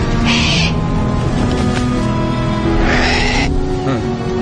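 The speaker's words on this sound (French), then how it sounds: "C'est Dermot, l'oiseau de Maeve" Bird calling in a film, two loud hooting, owl-like cries a few seconds apart, heard over a dense layer of background score.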